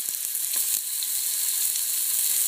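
Sofrito with onion and pepper sizzles in hot oil in a pan, a steady loud hiss with faint crackles, close and continuous without speech.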